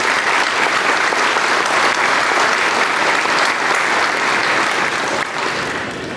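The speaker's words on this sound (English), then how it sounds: "Please give all of these a special round of applause." An audience at the Margaritaville opening ceremony applauds, a dense, steady clapping that stays loud throughout and eases slightly near the end.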